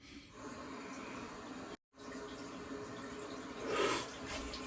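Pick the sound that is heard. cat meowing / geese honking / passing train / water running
water running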